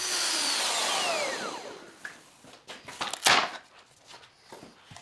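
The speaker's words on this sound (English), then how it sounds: "using this brad point drill bit here to mark my spots for my threaded inserts" A brad point drill bit bores into wood with a high whine that winds down, followed by several short clunks and scraping knocks of handling the workpiece.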